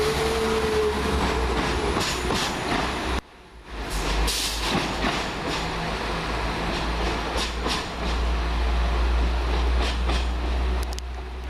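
A London Midland diesel multiple unit train, 172218, departs and rumbles past at close range, a low engine drone under rhythmic wheel clicks, with a brief squeal early on.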